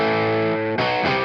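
Distorted electric guitar through a Joyo Preamp House amp-modeling pedal set to an EVH 5153-style distortion channel, a sustained ringing chord that shifts to choppy restruck chords, loud and alone with no talk.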